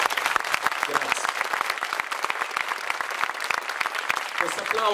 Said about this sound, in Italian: Questo applauso va a voi.